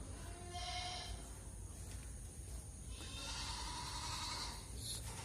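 Goats in a farm shed giving a few short bleats, one early and a longer one midway, faint over a steady low background hum.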